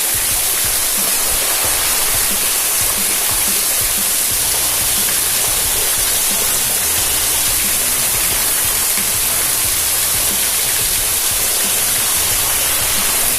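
A waterfall at Linn caves near Blairskaith in Scotland roars steadily and loudly, a dense unbroken rush of falling water heard close up with no voices.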